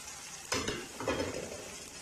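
Scrambled eggs are stirred into cooked peas in a frying pan, giving two quick scraping strokes over a faint steady sizzle.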